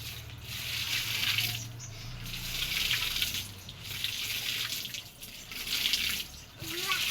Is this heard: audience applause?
no